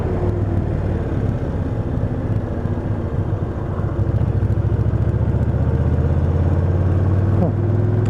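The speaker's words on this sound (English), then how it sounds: "Bike seems to be driving better." A Kawasaki Nomad 1600 motorcycle being ridden gives a steady, loud low engine rumble with road and wind noise, its pulsing note rising slightly partway through, with no talk.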